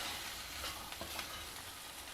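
Boiled potatoes roasting in oil in a kadai, giving a steady, close sizzle with light crackle and faint stirring scrapes for about two seconds, then cutting off abruptly.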